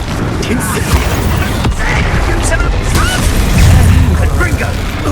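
The Incendio fire spell is cast in Hogwarts Legacy amid dense combat, loud whooshing fire bursts and booms layered with other spell impacts and a continuous busy game mix.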